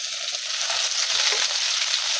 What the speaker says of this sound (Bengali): পেঁয়াজটা যে ভাজা ভাজা হয়ে এসেছে